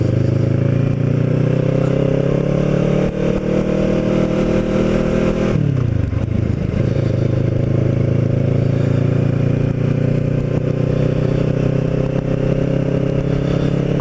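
A Kawasaki Ninja motorcycle rides on a road, its engine droning loud and close with a steady hum, then a gear change briefly drops the pitch before it climbs and holds again.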